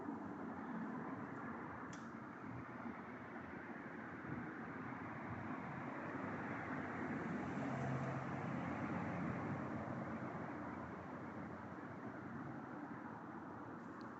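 Lorries driving past make a continuous low, echoing road rumble that swells slightly and fades, heard from a distance with no voices.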